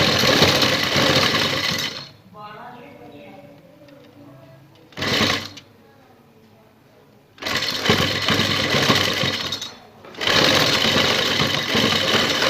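An electric sewing machine stitches a lace neck design in loud, fast bursts. Two long runs are separated by a short one, and quiet pauses fall between them, during which a person talks.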